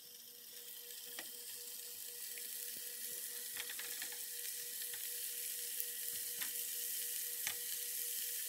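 Steady sizzling and crackling of chicken frying in a hot pan sprayed with cooking spray, a constant hiss with scattered pops, no voices.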